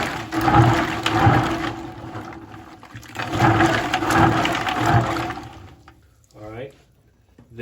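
Water drains and pours out of a bucket of pecans being washed before cracking, making bursts of gushing and splashing that stop near the end, where a person's voice is briefly heard.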